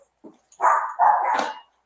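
A dog gives a quick soft yip and then two loud, close barks in succession, standing clearly alone against silence.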